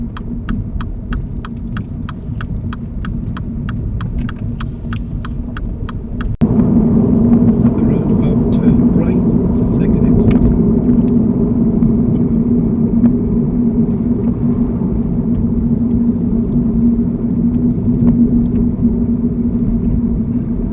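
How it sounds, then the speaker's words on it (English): A car on a UK driving test pulls away in first gear at a mini roundabout, a steady indicator ticking before the engine rumble swells and holds as a low, close drone. "Lucy, just roll it into first gear"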